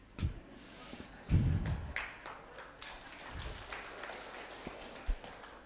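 A lecture audience at a spiritual talk breaks into scattered, uneven clapping, with a short fuller burst early on and lighter taps and thumps trailing off, heard at moderate distance.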